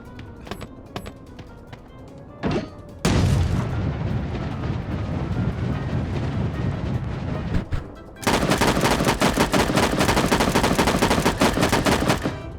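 Loud gunfire in the Sausage Man shooter video game: a few isolated shots, then sustained heavy bursts and a rapid machine-gun-like barrage near the end, close and dominant.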